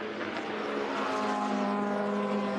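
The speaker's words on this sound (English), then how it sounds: "Sounds like the engine is running on idle." An Audi Le Mans prototype race car's engine idles in the pits, a steady droning hum with a faint whine above it, heard from a short distance with no talking.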